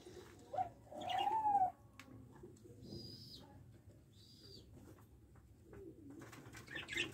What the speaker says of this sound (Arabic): هاي جوز اليمام اهو